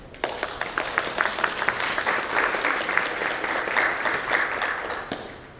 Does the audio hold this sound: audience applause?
yes